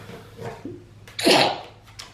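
A single sharp sneeze near the microphone, preceded by a quick breath, with no talking.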